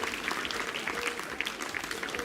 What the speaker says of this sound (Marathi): टाळ्यांचा आवाज येऊ द्या